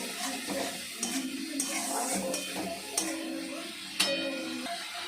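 Tomato, potato and spices with chilli powder, turmeric, salt, cumin and coriander powder being sautéed with meat in a pot, a continuous sizzle under clinking spoon strikes against metal, close and steady.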